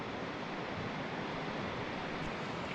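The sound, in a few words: Middle Fork Snoqualmie River flowing under a bridge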